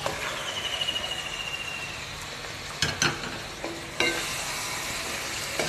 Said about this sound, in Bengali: এবার আমি ম্যারিনেট করে রাখা চিকেনগুলোকে দিয়ে দেব।